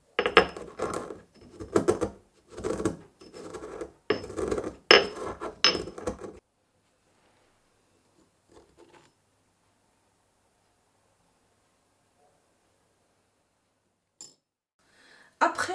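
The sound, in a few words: pounding gum arabic with salt and sugar in a mortar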